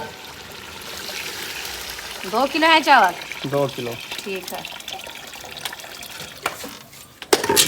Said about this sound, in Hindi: अभी इसमें पानी ऐड करते हैं चावलों के लिए।